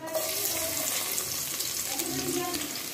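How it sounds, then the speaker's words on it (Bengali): Panch phoron and dried chilies sizzle in hot oil for olive pickle, a steady dense crackling hiss throughout, close and even with no talking. "তেল গরম হয়ে গেছে, এবার ফোড়নে দিয়ে দিব 5 ফোড়ন শুকনা মরিচ"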